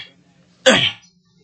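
A single short, harsh cough bursts out close by, then quiet.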